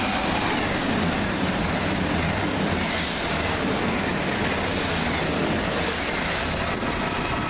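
Passenger train 1A72 from Chester to London Euston rumbles past at Cheddington, a loud, continuous roar of wheels and rail noise that stays heavy for several seconds with faint high squeals above.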